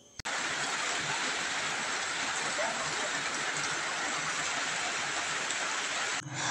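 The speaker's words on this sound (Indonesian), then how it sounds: "Ini udah hujan." Steady daytime rain pours down around a simple village house, a dense, even hiss that fills the whole stretch loud and unbroken, with no talk over it.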